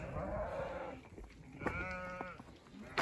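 Sheep on a spring farm give a bleat with a wavering, stacked tone, then a second brief cry at the end, heard over a steady outdoor background.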